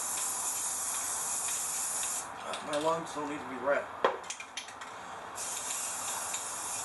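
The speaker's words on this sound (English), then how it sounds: "don't breathe the paint when you're spraying" Aerosol spray paint hisses steadily onto a car panel during a 2009 Chrysler 300 2.7L V6 overhaul, a continuous broadband spray that breaks off mid-clip while someone speaks briefly, then resumes.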